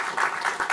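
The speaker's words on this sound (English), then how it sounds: "let's give a round of applause to Commissioner Carr for actually showing up" Brief burst of audience applause at a fireside chat event, dense clapping pulsing in a few quick swells, fairly close and with no talk over it.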